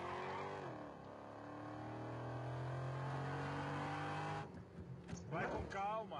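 A car engine revs steadily with a rising, sustained drone and then cuts to a quieter rumble, faint and set back in the mix, with people talking at the end.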